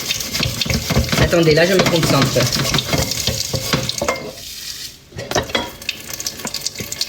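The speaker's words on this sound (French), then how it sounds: "je fais la vaisselle comme je le fais" Dishes being washed by hand under a running kitchen tap, steady water hiss with clinks and splashes, loud and close, while someone talks over it in French.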